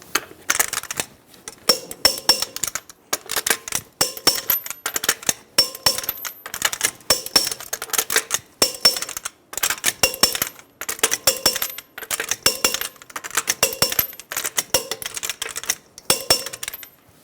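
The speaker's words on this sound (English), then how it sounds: "Torque the wheels to 90 foot-pounds in a star pattern." A torque wrench tightens the wheel lug nuts on a 2010-2014 Subaru Outback in a star pattern, making quick runs of sharp metallic clicks in repeated bursts, close and crisp, with no voices.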